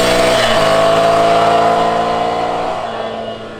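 A 2019 Ducati Scrambler Icon motorcycle is ridden with its engine droning steadily at close range, the pitch shifting early on before settling, and the tone fading gradually toward the end.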